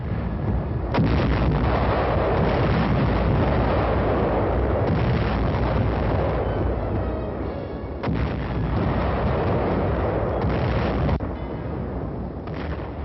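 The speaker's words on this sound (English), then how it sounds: "Now our artillery pounded and repounded the enemy defenses guarding San Pietro." Artillery pounding enemy defenses at San Pietro in the Italian campaign: a dense, continuous barrage of booming fire and rumbling blasts, loud and sustained throughout, with sharper reports standing out now and then.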